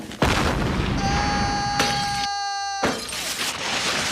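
A cannon fires in a Simpsons cartoon scene: a loud boom bursts out near the start, followed by sustained crashing noise with ringing, bell-like tones through the rest of the moment.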